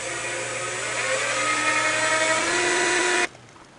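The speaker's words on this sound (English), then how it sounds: "now we're going to use a little spotting drill, drill that, and then drill the hole out and tap it" A small spotting drill spins at high speed into a metal workpiece in a machine chuck, giving a steady whining tone for about three seconds before it abruptly cuts off.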